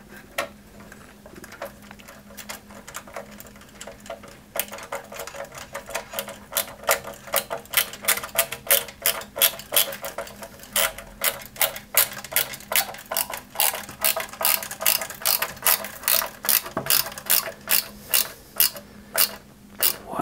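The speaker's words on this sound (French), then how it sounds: "Puisque là, il faut bien le visser." A 1/8-scale Fast & Furious Nissan Skyline GT-R model kit has small CM screws driven into it by hand, making a steady run of crisp, close ratcheting clicks that start after a quiet opening and repeat rhythmically to the end.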